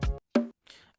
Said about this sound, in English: It's a bongo drum, it's another bongo, so it sound like this.